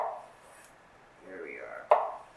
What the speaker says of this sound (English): touch a little piece of it when you're cutting it, just so that it doesn't stick to towards your knife